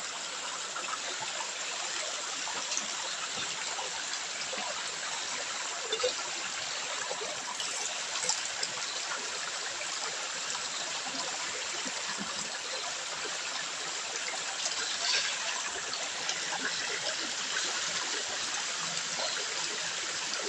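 A babbling natural stream of clean water flows continuously with a steady, even rush and gurgle, close and moderately loud with no talking.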